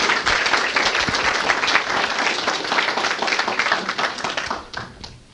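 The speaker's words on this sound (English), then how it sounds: "let's give him a little round of applause as he comes up" Warm, dense applause from an audience greeting a speaker as he comes up to talk, steady and fairly loud before tapering off at the end.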